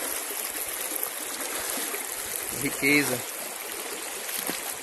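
River rapids on the Riacho Fundo in Bahia, Brazil, give a steady, full rush of flowing water that runs without a break, while someone says a word briefly over it.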